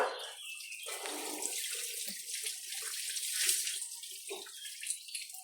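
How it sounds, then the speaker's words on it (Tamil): Water pours steadily into a container, a continuous splashing rush with gurgling shifts, fairly close and uninterrupted by voices. "ஓகே தண்ணி ஊற்றிடுங்க"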